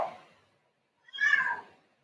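A cat meows loudly nearby, one drawn-out yowling call after a brief faint sound at the start, in a quiet indoor room where a yoga class is held.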